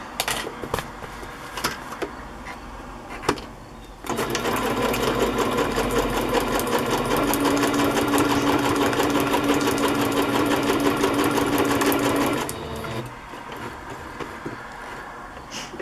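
A sewing machine runs steadily for about eight seconds, stitching a boho-style cover, with a loud continuous whir that starts abruptly and stops, quieter handling noises before and after.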